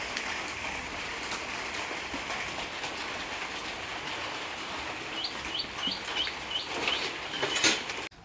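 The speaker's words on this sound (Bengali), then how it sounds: "এদিকে বৃষ্টিও পড়ছে" Steady rain falls in a constant, even hiss, with a few bird chirps breaking through near the end.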